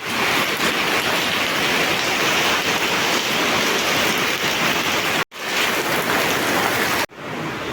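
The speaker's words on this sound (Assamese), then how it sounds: "তো গাইছ বাহিৰত হয় বৰষুণ দিছে" Steady, heavy rain pours down outdoors in a village, a dense continuous wash of drops close by, broken by two brief dropouts near the end; no voices.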